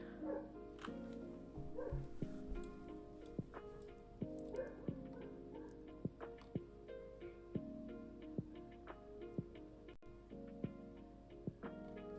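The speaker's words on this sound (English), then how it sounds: "My dog is barking." Dog barking and yipping faintly in the background indoors, a scattered series of short barks and whimpers with a steady ticking sound throughout, no speech.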